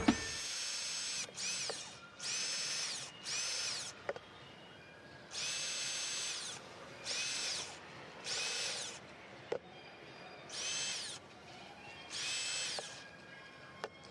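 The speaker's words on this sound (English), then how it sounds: "So I have a drill with a little tip on here that's going to make a hole inside, and I'm just going to put drain holes throughout." Power drill boring drain holes in a plastic bin: a series of short high-pitched whirring bursts, about a second each, starting and stopping in an irregular rhythm with brief clicks and quiet gaps between, heard close and alone.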